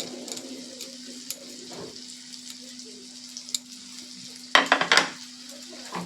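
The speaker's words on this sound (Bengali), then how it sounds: "আদাটাও কিন্তু এর সঙ্গে ভালো করে আমি কষিয়ে নেব।" Grated ginger, onion and spices fry softly in a pan, a faint sizzle under occasional spoon taps, ending in a short burst of louder stirring and clattering against the pan.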